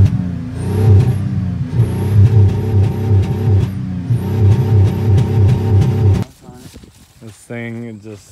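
An old car engine revs loudly in repeated surges while warming up, with rising and falling bursts of throttle before it cuts out and a voice speaks briefly near the end.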